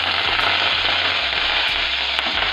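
Dry red chillies and spices sizzle in hot oil for a tempering, a loud, steady, close frying crackle with a few sharp pops scattered through.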